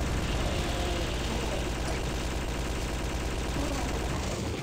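Rapid buzzing fire of a lightning gun from a Quake-style weapon in a modded shooter game, loud and continuous over a droning low engine-like hum with no break for the whole stretch.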